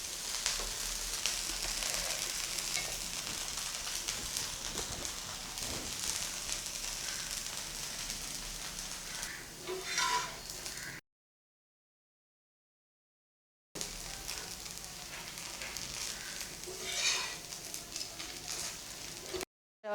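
Rava dosa sizzling in a pan over a low flame, a steady close hiss of frying batter that runs on with faint crackles, briefly cut by a silent gap.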